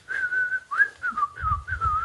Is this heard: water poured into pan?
no